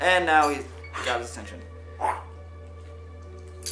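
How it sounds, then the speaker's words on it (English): Pet dog Rocco barking and yipping nearby in a couple of short bursts, a person talking over the sound. "That is my dog, by the way."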